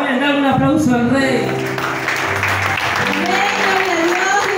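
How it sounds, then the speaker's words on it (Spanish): Congregation applauding at a church anniversary celebration, a dense, steady wash of clapping that fills the whole stretch, with cheering voices and a sustained sung or shouted tone carried through it. "dale un aplauso al rey"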